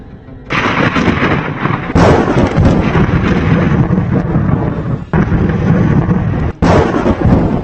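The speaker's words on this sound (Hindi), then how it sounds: "इतनी बिजली कड़क रही है कि आंखों पर भरोसा नहीं होता।" Thunder from lightning over the erupting Taal volcano, loud booming cracks and rumbles in several bursts, with sharp onsets near 0.5, 2, 5 and 6.6 seconds, each followed by sustained rolling rumble.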